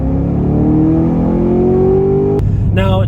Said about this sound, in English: you just get a sound that is pretty much the textbook definition of a howling and screaming American V8